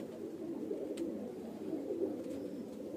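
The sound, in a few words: pigeon cooing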